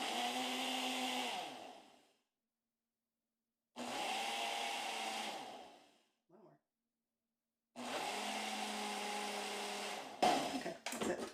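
A blender with a food-processing option runs in three loud, whirring bursts of about two to four seconds each, separated by silences, with a brief clatter near the end.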